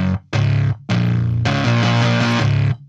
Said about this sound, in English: where it sounds like this with the entire bass pattern layered under it